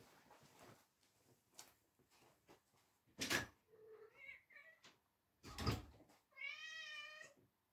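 A cat meows several times nearby, with short cries and a longer drawn-out wail at the end, mixed with a couple of loud knocks like a door or cupboard closing.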